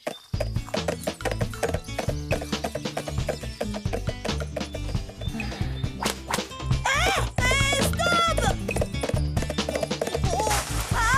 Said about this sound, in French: il est pas très nerveux ton cheval quand même